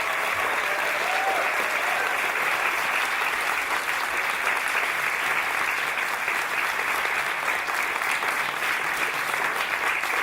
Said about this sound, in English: can you give all our panel a huge round of applause?